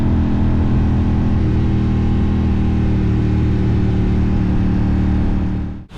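A 2007 Triumph Bonneville America motorcycle engine runs steadily and close by for about six seconds, a deep throaty rumble that holds its pitch, then cuts out abruptly at the end.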